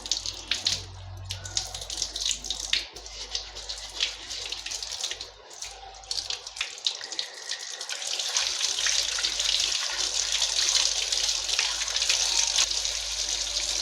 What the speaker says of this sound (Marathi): आता किती लाल पाणी जात आहे बघा